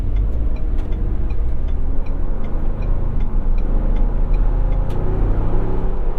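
A 2021 Ford Bronco First Edition 4-door with the 2.7L EcoBoost V6, 10-speed and Sasquatch package, driving along with a steady loud low engine and road rumble throughout, heard from inside the cabin.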